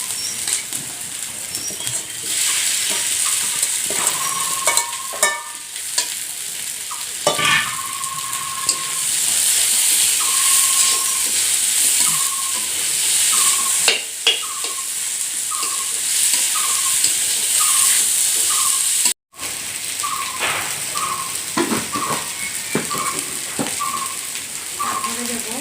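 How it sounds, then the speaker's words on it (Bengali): Boiled potatoes fry with ground spice paste in a pan for a Bengali egg curry, a continuous sizzling hiss broken by a run of short, evenly spaced scraping strokes as the pan is stirred. "মশলাগুলো ভাজা হয়ে গেছে, এখন আমি সিদ্ধ আলুগুলো দিয়ে দেবো।"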